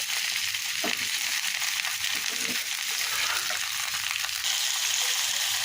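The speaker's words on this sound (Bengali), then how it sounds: "এবার আস্তে গেলে এভাবে নেড়ে চেড়ে দিয়ে ফ্রাই করতে হবে" Vegetables fry in a pan with turmeric, salt and chili powder, giving a steady hissing sizzle with occasional soft stirring scrapes, close by and without voices.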